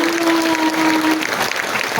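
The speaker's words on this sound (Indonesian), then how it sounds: "Kita berikan tepuk tangan." An audience applauds steadily at a youth symphony orchestra's anniversary concert, dense continuous clapping filling the hall with a faint held tone under it.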